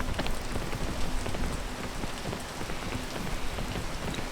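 Steady rain falls in the video game PEAK, a dense, continuous patter of drops on surfaces at even loudness throughout, with no voices over it.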